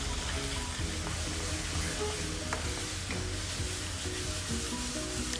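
Ash gourd halwa being stirred in a pan, a soft continuous sizzle with scraping and clicking of the spoon against the pan, close and steady, with no talking.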